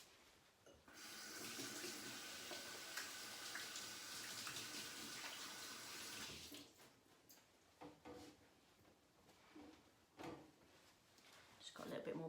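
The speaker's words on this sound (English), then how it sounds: "Then I'm going to wash my hands." A kitchen tap runs steadily for about six seconds as hands are washed under it during mince pie baking, followed by faint clatter and a voice talking nearby.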